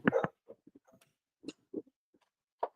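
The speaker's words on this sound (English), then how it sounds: "What are you barking at? This is my dog." A pet dog barks in a home, several separate yaps and woofs spaced irregularly, one sharp burst at the start and shorter barks following, fairly close with quiet gaps between.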